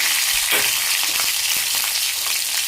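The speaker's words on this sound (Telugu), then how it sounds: "వేయించుకుంటున్నాను" Dried red chilli and green chillies fry in hot oil in a pan with a loud, steady, close sizzle and faint stirring, with no talk.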